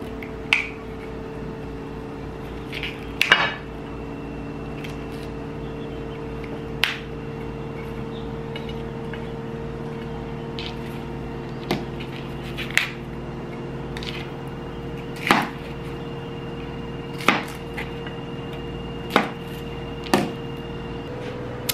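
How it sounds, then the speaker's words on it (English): A knife chops vegetables for pumpkin spice soup, making sparse, sharp knocks spaced a couple of seconds apart over a steady low room hum. "I'm gonna go ahead and get started chopping up these items"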